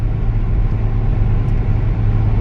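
Toyota Matrix XRS with a 2ZZ engine pulling in sixth gear at highway speed, a steady low drone of engine and road rumble holding close and constant with no voices.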